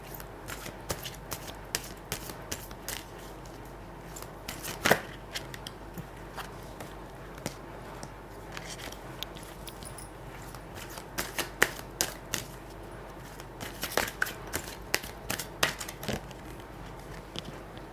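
Tarot cards are pulled from the deck and shuffled, giving quiet, crisp papery riffles and clicks in irregular bursts throughout, with no one talking.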